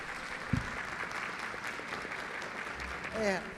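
Steady audience applause, a dense wash of many hands clapping at moderate distance, with a brief voice cutting in near the end.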